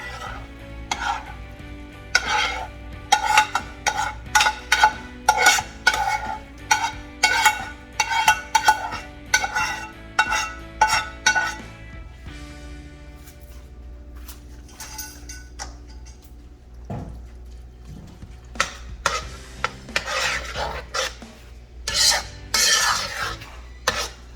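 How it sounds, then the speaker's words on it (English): Seafood vegetables stirred in a pot for etouffee, with a spoon scraping and clinking in quick repeated strokes against a faint sizzle, close and fairly loud, pausing midway and then resuming in busier bursts. "now I'm gonna go ahead and add these vegetables here, the seasoning as I call it."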